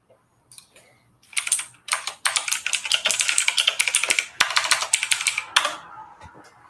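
Rapid typing on a computer keyboard, close and fairly loud, with dense bursts of key clicks and a few short pauses between runs, heard without any talking.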